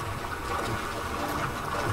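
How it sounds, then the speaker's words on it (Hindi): Wading into water in the game Red Dead Redemption 2, a steady sloshing, rushing wash of water fills the moment at moderate level with no talk. "अभी उस साइड जाने के लिए मुझे पानी में ही जाना पड़ेगा"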